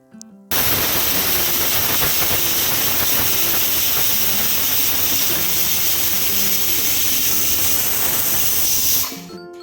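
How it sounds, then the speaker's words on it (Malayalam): A pressure cooker on the stove cooking beef curry with coconut milk and shallots whistles in one long, loud, steady hissing jet of steam that holds for about nine seconds and then cuts off. "ഇനി കുക്കറിൻ്റെ അടപ്പ് അടച്ചു കൊടുക്കുക. എന്നിട്ട് വിസിലിട്ട് കൊടുക്കുക."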